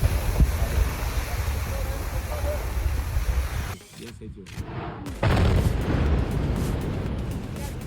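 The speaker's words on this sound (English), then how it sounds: "The presence of both snow and lava at the same time can also trigger extremely impressive phreatomagmatic" A phreatomagmatic explosion from lava meeting snow sounds as a deep, roaring boom with surf-like rushing that drops out briefly, then surges back loudly for several seconds.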